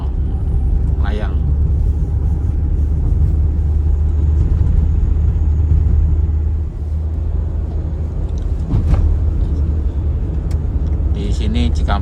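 Steady road rumble from car and truck traffic on the Cikampek toll highway at night, heard from inside a moving vehicle, with a continuous low drone and occasional passing swells.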